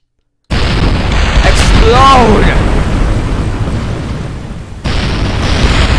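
A spaceship blows up in Kerbal Space Program, a loud sustained boom and rumble filling several seconds after a brief silence, with whooshing tones sweeping through the middle.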